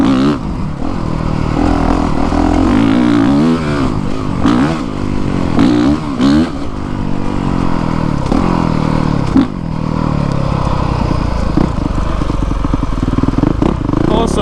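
A 2020 Honda CRF450R dirt bike ridden on old trails, its engine loud and close throughout, revving up and down through repeated throttle swells with brief dips, alongside some clatter and wind.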